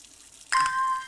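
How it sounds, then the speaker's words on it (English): Watering plants in the puzzle game Strange Horticulture gives a single bright chime with a soft watery hiss, sudden and clear, ringing briefly over a faint background. "we need to water the plants"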